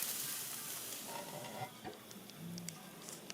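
Pumpkin slices cooking under the lid of a grill give off a faint, steady sizzle and hiss, with a few soft pops and scrapes, quiet and close, with no talking.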